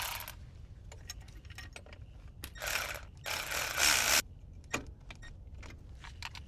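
Someone tightens a nut by hand on the alternator bracket of a 2008-2014 Subaru WRX, with close metallic clicks and taps, a couple of longer ratcheting bursts, and light tool rattles in a quiet garage.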